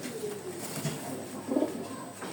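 A pigeon coos softly, a brief low throaty murmur rising once near the end over faint background hiss.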